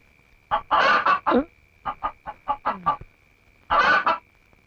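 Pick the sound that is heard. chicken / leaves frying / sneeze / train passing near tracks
chicken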